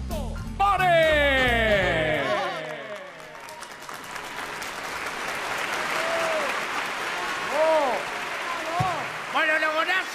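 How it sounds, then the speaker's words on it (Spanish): Studio audience applause fills a televised entertainment show as a guest is welcomed, loud sustained clapping with a swell of crowd noise, while music plays over the start and a host's voice cuts in near the end. "Señoras y señores, fuerte el aplauso"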